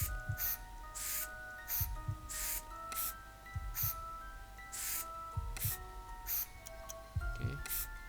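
Cleaning spray in the video game Silent Cleaning hisses out in about seven short, evenly spaced bursts, with soft low thuds and a steady tonal game hum underneath.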